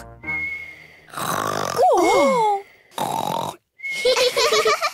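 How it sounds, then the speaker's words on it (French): Cartoon pig voice performing loud, exaggerated snores, several rough snorting bursts with whistly gliding tones between gaps, close and alone without other talk. "quand tu fais la sieste, tu ronfles très fort"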